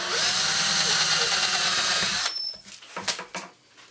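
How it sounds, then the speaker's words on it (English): A power drill bores pilot holes into wood for a beginner step stool, whining steadily at close range for about two seconds before stopping. Clicks and handling knocks of the tool follow. "So now what we've done by drilling these holes is we basically created a ledge for our drill bit to grab onto."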